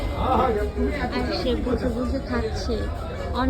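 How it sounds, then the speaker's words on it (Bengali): A busy crowd's dense murmur of chatter fills the background, heard continuously under someone talking close to the microphone. "অনেক বেশি পরিমাণে ক্রাউড। এই ক্রাউডের মধ্যে কথা বলতেছি,"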